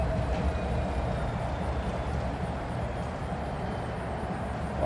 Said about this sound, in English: It's a locomotive.